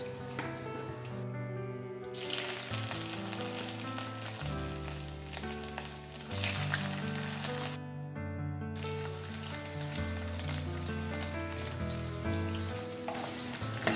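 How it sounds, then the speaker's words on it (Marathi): Paneer shallow-frying in oil in a pan over a medium gas flame: continuous crackling sizzle, even and moderately loud, with a layer of background music underneath and no talking. "हे घेतलेलं पनीर शॅलो फ्राय करून घेऊ।"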